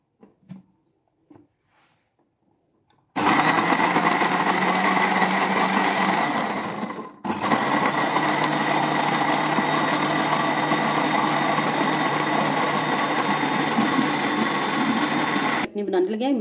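An electric blender whirs loudly and steadily through soaked apricots for a sweet chutney, running continuously with a short pause midway, after a few quiet kitchen clatters.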